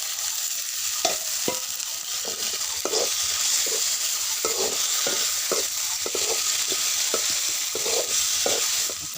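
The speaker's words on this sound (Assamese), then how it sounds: "ইয়াতে ভাজি দি দিছোঁ" Small tomatoes fry in a pan with a steady, dense sizzle, and frequent light clicks from stirring run through it. No one talks.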